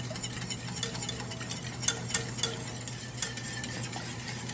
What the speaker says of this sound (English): you're just gonna keep stirring this until it's nice and consistent